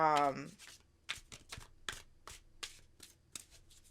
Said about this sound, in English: So I just kind of shuffle the cards.